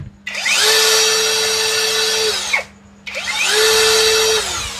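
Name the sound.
MLHY 21V brushless drill running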